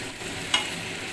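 Chicken frying in a pan for an Indian chicken dish, with a steady low sizzle and a single short scrape of stirring near the middle, close and fairly quiet.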